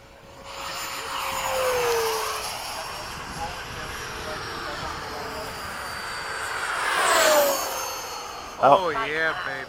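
Electric ducted-fan RC model jets, a 90mm F-15, 90mm F-4, 80mm F-5 and 90mm Hawk flying in formation, whine past with rising and falling Doppler sweeps, loudest near the middle and end, with a voice speaking at the close.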